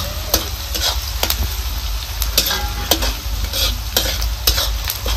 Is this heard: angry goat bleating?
no